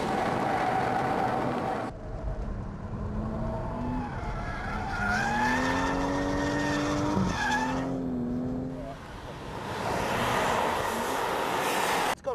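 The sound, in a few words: car tires skidding in power slide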